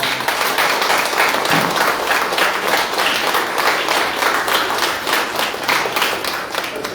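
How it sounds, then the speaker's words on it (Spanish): Audience applause for a team after a presentation on linguistic tools, dense and steady clapping from a room full of people that holds at a loud, even level throughout. "les voy a pedir un fuerte voto de aplausos para este equipo"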